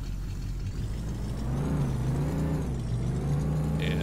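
Chevrolet C1500 pickup truck engine in the Farming Simulator 15 game, droning steadily and climbing in pitch as it is floored, with no talking.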